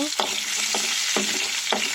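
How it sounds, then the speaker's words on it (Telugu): Cumin, mustard seeds, chana dal and urad dal tempering for dal in a pan: a constant nearby sizzle broken by regular scraping strokes of a stirring spoon, roughly every half second. "ఇక్కడ పప్పు అయితే తాలింపు పెడుతున్నాను"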